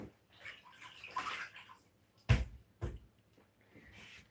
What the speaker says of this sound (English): let me rinse it off quick here